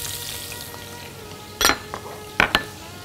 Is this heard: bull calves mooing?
no